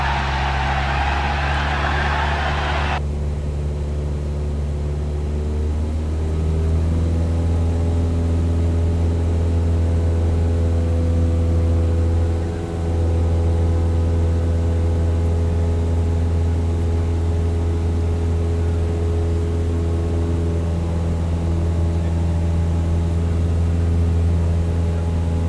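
Mini flight motorbikes race in an animated story. Their engines make a sustained, loud, layered whine that steps up in pitch partway through and then holds a steady droning tone, with no voices.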